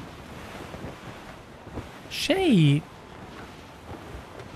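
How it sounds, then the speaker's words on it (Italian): Strong wind at sea in the Assassin's Creed Rogue video game, a steady broad rushing noise with waves and a sailing ship, under a brief spoken line from a character. "C'è un gran brutto vento."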